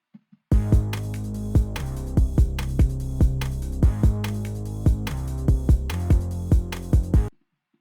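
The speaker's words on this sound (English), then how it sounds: "So the full drum and bass sound like this." Home-produced drum and bass beat with a sub bass from an Analog Lab preset: punchy, evenly spaced drum hits ride over a steady, loud low bass for about seven seconds, then stop.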